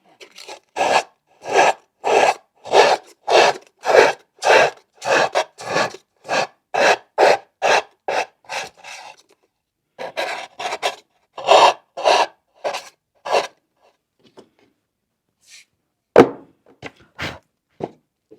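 Rhythmic rasping strokes of a small nail file worked along the edge of a bamboo tissue box, steady back-and-forth rubs for most of the stretch, then a pause and a few scattered scrapes, close and fairly loud with no talk.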